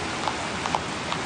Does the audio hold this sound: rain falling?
yes